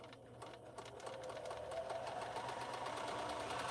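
A sewing machine stitches slowly during a quilting session, its needle producing a steady, moderately quiet mechanical chatter with a rhythmic pulse that grows slightly louder and denser over a few seconds.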